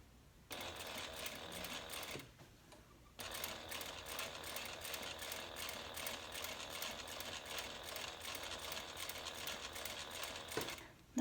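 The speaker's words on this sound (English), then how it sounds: "Nothing like the hum of the sewing machine" A sewing machine with a zipper foot runs in a steady, rapid mechanical hum as it stitches an internal zipper pocket into a handbag. It pauses briefly once and then resumes, clear and close.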